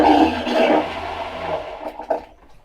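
A toilet flushing up close, a loud rushing swirl of water that slowly fades, with a few gurgles and splashes toward the end.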